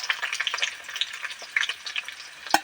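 Onion frying in hot oil for a broiler chicken curry gives a continuous, crackly sizzle with light spatters and a sharper clink near the end, heard up close and alone.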